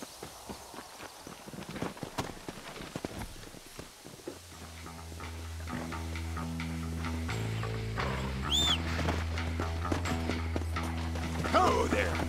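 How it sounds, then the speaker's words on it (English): Horse hooves in the video game Red Dead Redemption clip-clop in an uneven rhythm at first, then a steady droning engine-like hum and tonal music rise, with voices murmuring faintly underneath. "There should be some horses for us across the way."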